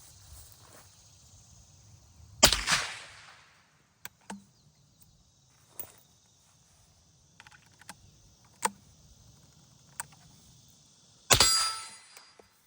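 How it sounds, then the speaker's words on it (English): Two sharp, suppressed shots from a Rossi .357 revolver crack outdoors several seconds apart, with a few faint ticks between them and a steady high insect drone in the background. "Now let's fire at the steel."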